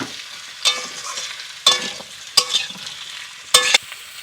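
Ridge gourd, pumpkin and potato fry in a pan over a steady soft sizzle, with four distinct scraping stirs of a spatula spaced about a second apart, close and fairly loud.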